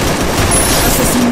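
Dense gunfire from the Free Fire battle royale game, a rapid burst of loud shots filling the whole moment.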